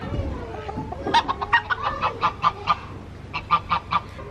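A rooster makes a series of rough, rhythmic clucking calls close by, the bursts coming in a steady run with a short pause before a few more.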